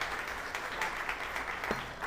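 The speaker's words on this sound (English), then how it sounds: "maybe you can give him a round of applause for Sam" Faint, steady applause from a monthly meeting audience honoring Sam, named Young Member of the Year, a thin continuous patter of clapping with a brief voice near the end.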